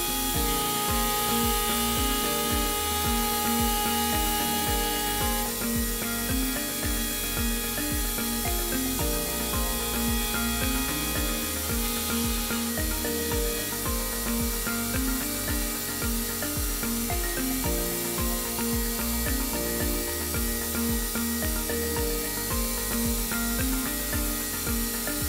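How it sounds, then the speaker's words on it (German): A CNC machine pre-mills a jazz bass guitar neck profile with an 8 mm end mill, giving a loud, steady machining whine and rumble with rhythmic cutting passes throughout, no talking. "Der erste Arbeitsschritt hier ist das Vorfräsen mit dem 8 mm Schaftfräser."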